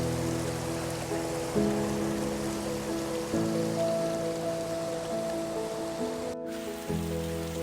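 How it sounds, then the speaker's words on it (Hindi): Light rain falls steadily during a trek at Tamhini Ghat near a waterfall, a soft, even hiss running throughout beneath sustained background music chords. "हल्की हल्की बारिश है"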